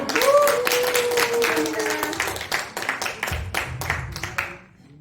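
An audience applauds at the end of a lecture: dense clapping that thins into scattered claps and fades out, with a voice briefly heard near the start.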